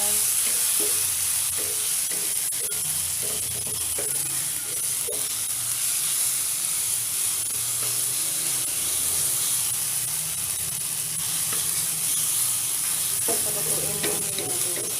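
Tomatoes, garlic and onions sizzle steadily in a pan as they are stir-fried, a continuous bright hiss with intermittent scraping and clatter from stirring.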